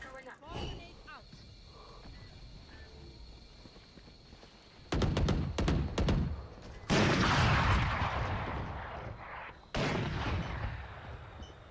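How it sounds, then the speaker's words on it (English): Swarm grenade detonations and gunfire in Valorant, a quick cluster of sharp pops followed by two loud, sustained bursts of blasts and shots, with game sounds and voices in the quieter opening. "Placing swarm grenade. Swarm grenade out."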